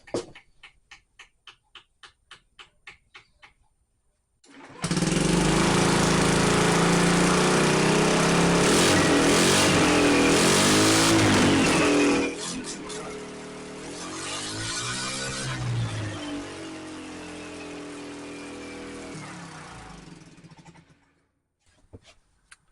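A Honda Metropolitan scooter with a patched exhaust starts with rapid ticking, then its small engine runs loud and buzzy for several seconds before settling into a softer, uneven idle that fades out.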